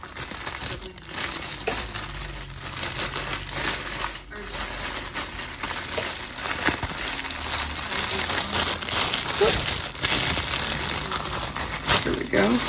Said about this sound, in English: So I'm gonna put it back in the plastic bag.